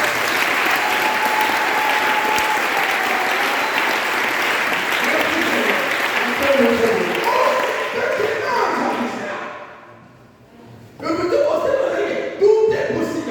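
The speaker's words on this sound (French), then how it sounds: "On acclame ça." Sustained applause fills a church congregation's gathering, loud and steady for about nine seconds before fading briefly, then a second burst of clapping rises again near the end.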